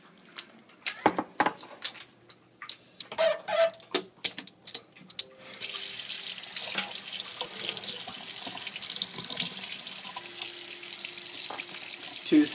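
Water runs steadily from a tap into a sink after a few clinks and knocks, a constant close splashing hiss.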